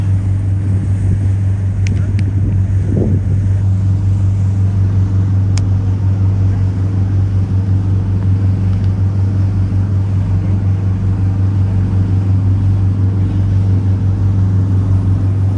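A large boat's engine rumbles low and steady throughout on the Atlantic, with wind noise and a brief voice early on.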